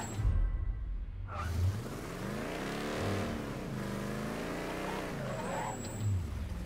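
A car in the Mafia III video game on Xbox One drives along, its engine revving up and down in smooth, rising and falling sweeps, loud and close throughout with no talk.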